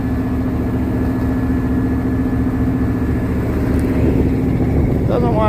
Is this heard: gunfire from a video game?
no